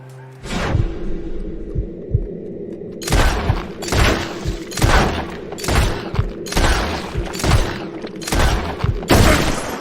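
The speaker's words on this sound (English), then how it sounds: "Maybe we weren't the first one to shoot Micah, but we did blow his frickin' head off" Gunfire in the Red Dead Redemption 2 epilogue: after an opening blast, a rapid string of loud, evenly spaced shots cracks out one after another, each with a heavy low thump and a bright crack.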